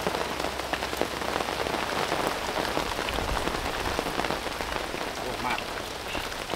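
Heavy rain pouring down beside a village canal, a dense continuous hiss of drops drumming on surfaces, steady and loud throughout with no break.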